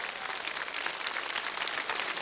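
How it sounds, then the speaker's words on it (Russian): A studio audience at a Russian television quiz show claps steadily in a dense, even wash of applause that carries on without a break. "Эти аплодисменты все равно встречают вас."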